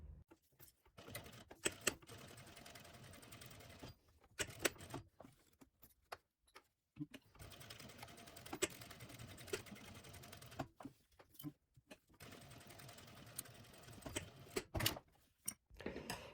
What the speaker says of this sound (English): we will take it to the sewing machine and we are just gonna do 3 sides